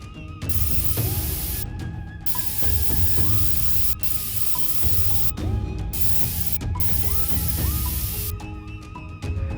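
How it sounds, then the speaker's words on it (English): Airbrush spraying orange paint stripes on a Bandai 1/48 scale Snowspeeder model, a steady close hiss in long bursts broken by short pauses, with faint mechanical whirring underneath and no voices. "I'm going to start airbrushing all my stripes on the Snowspeeder"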